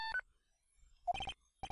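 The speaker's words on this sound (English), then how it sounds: "I bet it was this ringtone that caused it." Phone ringtone from the Phoenix Wright video game: a short electronic chirp of tones, then a pause and a brighter burst of rapid repeated beeps, clear and alone with no voices.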